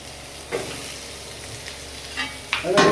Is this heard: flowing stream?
no